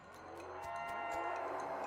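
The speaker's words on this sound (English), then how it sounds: "You spot a hellcalf grazing off the side of the trail just as it spots you. Its eyes glow, and two shadow cows split off from it" In the West of Loathing video game, a hellcalf and two shadow cows give a low, drawn-out moo that swells in loudness and holds for almost two seconds, with no talking.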